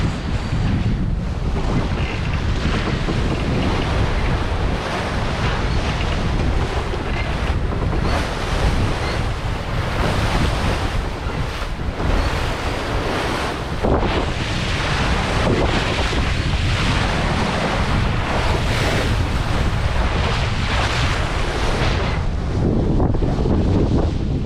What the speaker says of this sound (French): Des vagues mais pas trop hautes pour l'instant, c'est tolérable aussi